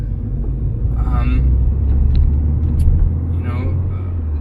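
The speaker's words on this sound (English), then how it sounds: "you can hear the rolling resistance, the rolling road sound from the wheels" Steady low tyre roar and road rumble heard from inside a moving Mercedes A-Class, a continuous loud drone underneath with faint higher swishes, with no talking.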